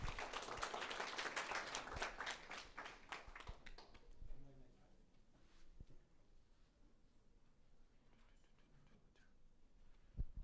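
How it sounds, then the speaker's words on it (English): Audience claps for a presenter at an agricultural science seminar on crop intensification: a loud burst of applause that quickly thins and fades after a few seconds into quiet room noise, with a couple of faint taps later. "let's give a round of applause to Fahmuddin."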